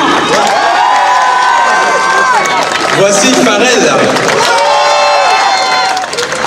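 Loud, sustained clapping and cheering from a crowd fills a closing-night celebration of a theme park attraction, with whoops rising above the din while an announcer talks over it.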